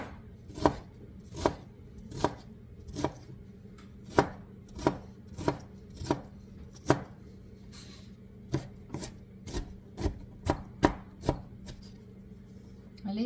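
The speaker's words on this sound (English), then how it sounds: "I'll just chop it this way." A knife chops a pear with the skin on in a run of about seventeen crisp, evenly spaced strikes against a cutting board, close and distinct, slowing slightly near the end, with no talking.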